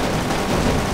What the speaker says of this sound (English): I'm just shooting forward so I can get rid of the suicide bombers